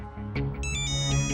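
Phone ringtone for an incoming video call, a bright electronic melody of rising chimed notes that plays loud and close, alone without talk.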